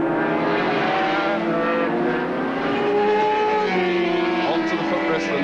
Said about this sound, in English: Nation leaving the rest of the field in his exhaust fumes from that flying Norton